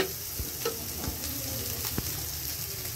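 Eggs frying in a pan, a continuous close sizzle with a few sharp clicks and taps of a utensil against the pan, steady and alone without any talking.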